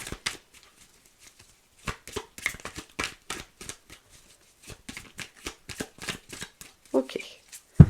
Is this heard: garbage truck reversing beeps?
no